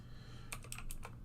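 Quiet, close clicking of a computer keyboard, about five quick keystrokes in a short burst over a low background hum.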